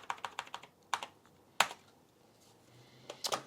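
Keys clatter on an Amiga 1000 keyboard while a folder gets renamed: a quick burst of separate, close taps, a pause, two sharp isolated strokes, then a final rapid flurry.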